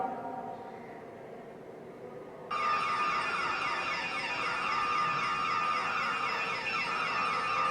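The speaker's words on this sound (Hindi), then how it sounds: "और ये फायर अलार्म है।" A fire alarm played as a sound example in a science lesson: after a quiet hiss, a loud, siren-like wailing tone starts suddenly and holds steady with a slight warble until the end.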